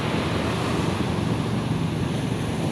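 Big ocean waves roar during a boat crossing, heard as a loud, continuous wash of surf and buffeting wind noise on the microphone, with no talk over it.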